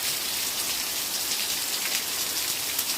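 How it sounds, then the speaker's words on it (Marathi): Heavy rain shower pours down steadily in the Maan taluka countryside, a dense, even hiss of drops on surfaces with no break and no voices, close and constant throughout. "आज पुन्हा या पावसानं जोरदार हजेरी लावून शेतकऱ्यांना आनंदित केल्याचं दिसत आहे"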